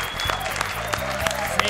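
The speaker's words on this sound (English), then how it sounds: "Ladies and gentlemen, another round of applause for Rhayne Thomas." Studio audience at a Las Vegas talk show applauding a guest, a steady wash of clapping from a crowd across the whole stretch, with a few sharper claps standing out.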